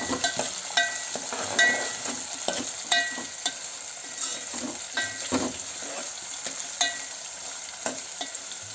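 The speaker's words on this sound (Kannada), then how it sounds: "ಇದು ಎಣ್ಣೆಯಲ್ಲೇ ಬಾಡಿಬಿಡುತ್ತೆ, ಫ್ರೈ ಆಗುತ್ತೆ" Avarekayi beans frying in oil for uppittu, a soft continuous sizzle broken by repeated clinks and scrapes of a spoon stirring the pan.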